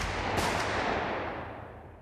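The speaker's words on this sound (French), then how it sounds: "Quand des coups de feu résonnent dans le hall d'entrée du tribunal." Gunshots ring out in a courthouse entrance hall, a loud broadband burst with a long reverberant decay filling the space, with no voices over it.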